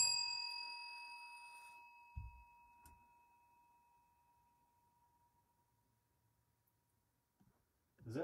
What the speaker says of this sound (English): Do you not like this bell?